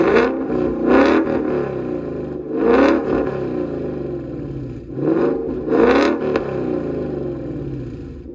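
A 2019 Mustang GT V8 with a Corsa Extreme catback active exhaust revs repeatedly, four loud throttle blips rising and falling over a steady idle rumble, close and unaccompanied by talk.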